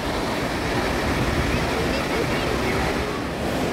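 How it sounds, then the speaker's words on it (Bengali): Dassam Falls, a waterfall near Ranchi, pours down with a steady, dense roar that stays loud and unbroken throughout, with no voices over it. "দেখতে পাচ্ছ কি স্পিডে এই যে ফলস থেকে যে জলটা নিচে নামছে"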